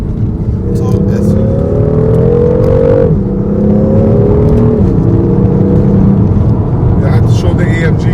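Mercedes-AMG car driving on a freeway approach in Mumbai: a loud, steady engine drone with smooth shifts in pitch as it cruises, plus wind and road roar throughout.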